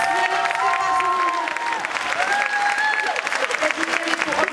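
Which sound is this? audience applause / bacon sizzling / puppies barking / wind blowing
audience applause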